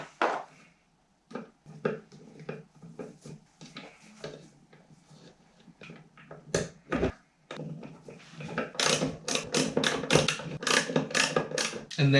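A bolt is driven into a Yak Attack kayak mount on a boat, giving a run of quick ratcheting clicks and taps that start sparse and grow denser and louder toward the end, close up.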